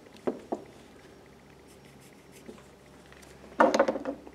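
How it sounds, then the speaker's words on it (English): A pencil draws a line on a wood carving of a Native American male with a buffalo robe, producing brief scratchy strokes, quiet at first and then a louder burst of rubbing marks near the end, close up and without talk. "Draw my line back in."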